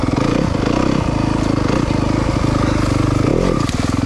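A Yamaha 250FX four-stroke dirt bike engine drones steadily while being ridden, a loud close rumble with a rhythmic pulsing beat and brief throttle swells, no talking over it.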